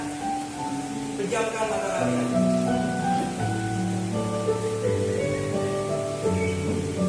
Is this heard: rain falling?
yes